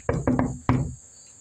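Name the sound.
knocking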